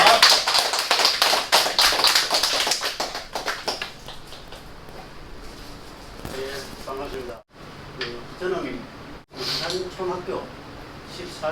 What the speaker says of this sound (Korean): 큰 박수로 모시고오겠습니다